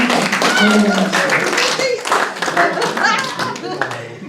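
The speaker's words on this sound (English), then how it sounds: "Give me a big round of applause" Audience clapping at a live lecture on body magic, a burst of applause with some voices mixed in, loud and close, tapering slightly toward the end.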